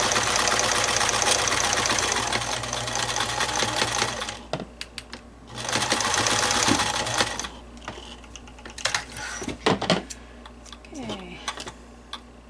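Sewing machine stitching the pocket of a fabric mask meant to cover an N95, running in two steady bursts of mechanical whirring, then stopping amid handling clicks and rustles.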